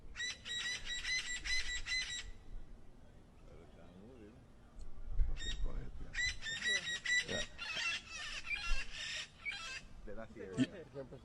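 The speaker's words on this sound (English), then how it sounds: "I thought that the country was hearing this wonderful bird above me. It's a parrot." A parrot calls from overhead during an outdoor speech, giving bursts of loud, harsh squawks and chirps at the start and again later, with someone talking in between and beneath the calls.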